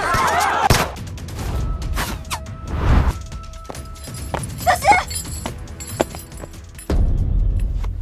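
Gunshots fired in a Chinese drama scene land as a few sharp, loud bangs spread across several seconds, separated by quieter stretches of background sound.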